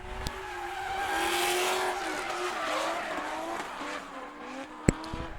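Drift car at a grassroots drift competition, its engine roaring under a long, sustained tire squeal that rises and fades at moderate distance, with a sharp knock near the end.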